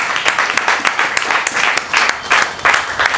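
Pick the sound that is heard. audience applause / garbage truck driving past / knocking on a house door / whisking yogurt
audience applause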